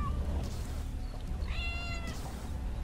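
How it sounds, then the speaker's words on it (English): A cat meows in Lego Marvel Super Heroes 2, two clear rising cries over a steady low background rumble. "The cat is trying to confuse you."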